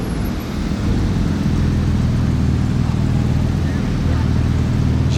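A yellow Ferrari GTC4 driving past on a Monaco street, its engine giving a loud, steady, throaty drone with a low rumbling pulse that holds throughout.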